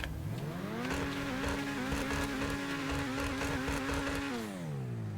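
Dubocci Champion supercar engine in GTA Online revving up, holding a steady high-pitched whine through gear shifts, then winding down at the end; loud and close, with no talking.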